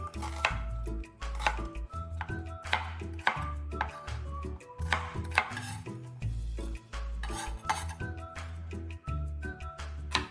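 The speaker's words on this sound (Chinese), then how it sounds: "洋葱1个，80至100克都可以，先切成小块，比较容易搅拌。" An onion is chopped into small pieces on a board for a curry cassava dish: a steady run of close, sharp knife strikes over a constant low hum, with no voices.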